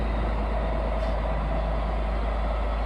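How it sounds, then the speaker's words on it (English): An FV432 armoured personnel carrier's engine runs at a steady idle, a constant deep rumble with strong low-end throb and no pauses or revving, heard close and alone. "That is a sweet engine."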